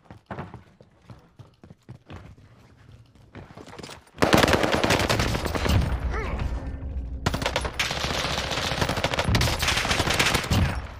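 Gunfire from a ZRG sniper rifle in Warzone, a few sharp scattered cracks early on giving way to a loud, dense barrage of shots and blasts that continues through to the end.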